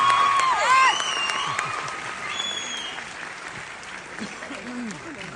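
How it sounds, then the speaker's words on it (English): Graduation audience at a high school ceremony applauds the parents, a broad wash of crowd clapping that starts fairly loud and gradually thins, while voices and a few whistle-like tones sound over it. "Let's give a round of applause for these amazing,"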